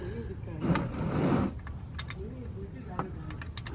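A wrench clicks and ratchets while loosening the oil filter on a Toyota RAV4 Prime, with a rough rustling scrape early on followed by several sharp, close mechanical clicks at irregular intervals.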